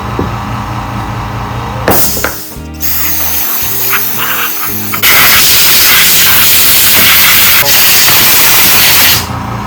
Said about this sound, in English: try to clean it off some, blow it off with the compressor